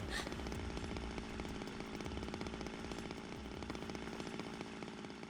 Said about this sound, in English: She's gonna stab that chainsaw into Zero.